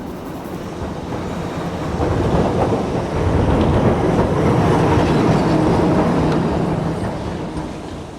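A heritage 15-ton electric tram rolls along rails set into a cobbled road at the Crich tramway museum village, a loud rumbling approach that swells, holds with rhythmic wheel clatter, then eases off.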